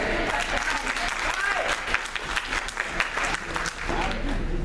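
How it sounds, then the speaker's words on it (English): An audience applauds at a summer youth event, steady dense clapping filling the whole stretch without a break. "You can clap right there."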